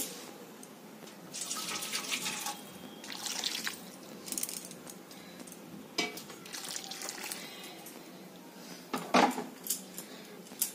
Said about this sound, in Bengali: আর একটু গরম জল দেবো।